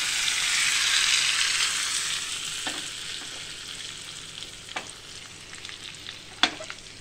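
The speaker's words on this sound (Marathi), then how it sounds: "छानपैकी आपण तुपाचा तडका दिला आहे खिचडीला" A ghee tadka for mixed dal khichdi, with cumin, asafoetida, crushed garlic and coriander, bursts into a loud hiss that gradually fades, followed by a few sharp clinks and stirring scrapes close by, no talking.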